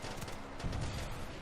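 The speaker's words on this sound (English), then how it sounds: "In comes more gunfire." Gunfire in Kerbal Space Program with BD Armory, a dense rapid burst of shots rattling steadily for over a second and thickening partway through, heard alone without talk.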